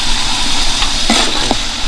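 Onions frying with salt in a pan at a village outdoor cooking spot, a steady broadband sizzle with a couple of brief scraping stirs near the end, fairly close and continuous.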